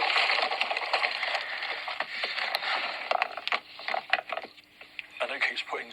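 Glass jars are dropped into a recycling bin, clattering and clinking in a busy run of sharp knocks over a steady hiss, with faint voices mixed in.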